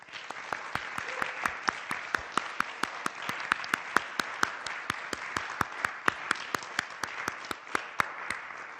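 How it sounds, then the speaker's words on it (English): Applause from a university Senate meeting audience, steady and moderately loud for the full stretch, with a regular pulse of sharper individual claps standing out over the dense wash of hands. "please give them a hand and a round of loud thank you applause"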